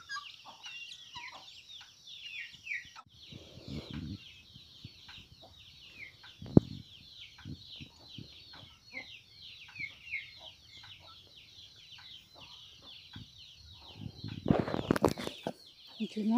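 Farmyard chickens being fed with feed give a busy chorus of high, chattering clucks and peeps throughout, with occasional wing flaps, scattered thuds, and a louder rustling burst near the end.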